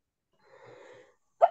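A single short sneeze bursts out at the end, preceded by a faint hum and murmur in a quiet online class setting.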